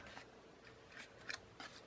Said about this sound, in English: And then that's where you snip.